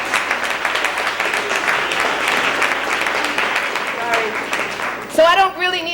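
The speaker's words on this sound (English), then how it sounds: "give her a round of applause as she comes forward" Town hall meeting crowd in Crown Heights applauding the Public Advocate, a loud steady round of clapping filling the room, with a voice starting to speak as it dies down near the end.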